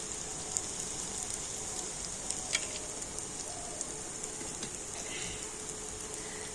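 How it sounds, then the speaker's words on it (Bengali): Doi pitha fry in hot oil with a soft, continuous crackling sizzle scattered with small pops, fairly quiet and heard alone. "অল্প অল্প করে দিয়ে এইভাবে ভেজে নেব আর দেখুন কত সুন্দর তেলের উপরে ভেসে উঠেছে"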